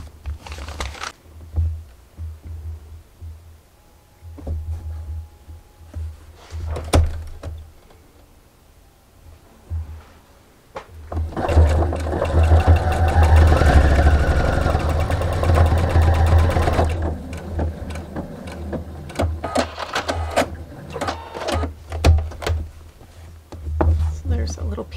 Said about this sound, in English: we're going to go ahead and get started sewing this